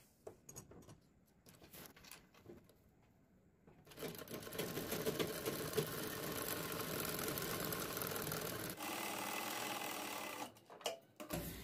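A sewing machine runs steadily as it stitches across a blouse back neck reinforced with buckram, starting after a few seconds of quiet handling, humming continuously for about five seconds, then stopping, with a few short bursts and rustles near the end.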